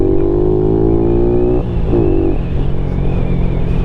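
A Lifan KP Mini 150 motorcycle's engine and mufflers rumble loudly and steadily while riding, with a brief dip and rise in revs partway through. No voices are heard.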